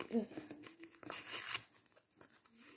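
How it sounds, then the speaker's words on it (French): A piece being torn off by hand, a short ripping and crinkling burst near the start with a brighter tearing sweep around the middle, close and fairly quiet, under faint speech-like sounds. "Vous voyez, je vais déchirer ce bout."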